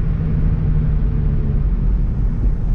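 An Infiniti G35 coupe fitted with a JDM engine accelerates, giving a steady, loud low-pitched rumble of engine and road noise that holds constant throughout, with no speech.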